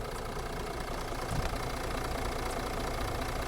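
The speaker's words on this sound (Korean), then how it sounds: "시동을 걸었을 때 아이들링 상태에서 디젤 엔진이지만 밖에 소음 좀 한번 들어보시면은요" A Mercedes CLS 400d 4MATIC diesel idling outdoors in snowy weather, a steady low rumble with faint clatter heard from outside the car, continuous and even throughout.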